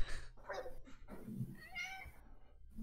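A pet cat meows several times in quick succession, short and close to the microphone, with breathy pauses between the calls.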